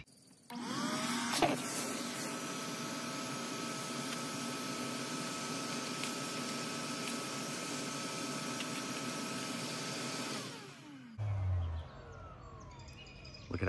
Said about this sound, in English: So let's vacuum the rest of this.